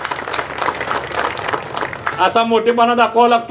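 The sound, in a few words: applause for the candidate at a rally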